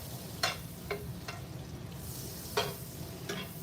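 Butter melts in a hot pan with a soft continuous sizzle, broken by a few sharp scrapes and taps of a utensil stirring it, close and fairly quiet with no talking.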